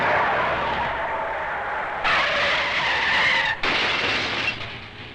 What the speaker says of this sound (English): Most curious of all automotive sport, the demolition derby, the vicarious spectacle